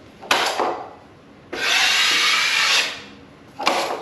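Taping knife scraping excess joint compound off drywall: three rasping strokes, two short and one longer sustained scrape in the middle, close and clear with no talking.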